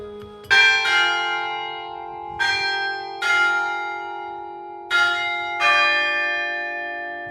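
Church bells in Reykjavík ring out clearly in a town-centre setting, several separate resonant strikes spaced about a second apart, each leaving a long shimmering decay, with no voices over them.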